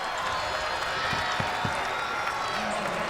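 Gator fans in a college basketball arena, Florida against FGCU in the 2013 NCAA tournament, keep up a steady roar of crowd noise with a few sharp claps and thumps rising out of it.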